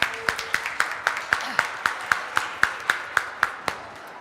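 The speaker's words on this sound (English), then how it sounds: "Please give them a round of applause" An audience claps in a regular, evenly spaced rhythm for an operations team at a welcome event, distinct sharp claps sounding one after another close by rather than a dense roar.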